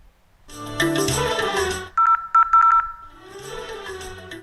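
A short electronic phone ring sounds in bursts between stretches of talking, clear and close.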